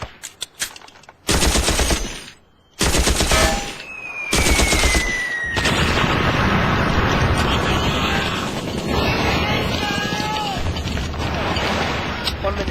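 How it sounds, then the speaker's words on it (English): Machine guns in a Doctor Who war scene open fire in loud bursts of rapid shots, breaking off briefly before a sustained, dense barrage continues with booming impacts and shouting voices mixed in. "Now, resume firing."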